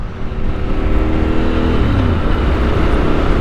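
A Yamaha Tenere 700 with a flashed ECU revs hard under twisted throttle. Its snarling engine note climbs and holds loud and close for a few seconds, with no talking.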